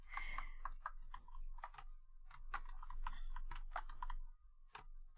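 Steady light tapping of computer keyboard keys, quick irregular clicks at close range, fairly quiet, with no talking.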